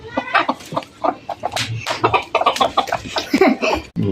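Hens on a farm clucking in quick, agitated bursts, close and fairly loud, several birds overlapping in choppy rhythm during a squabble between them.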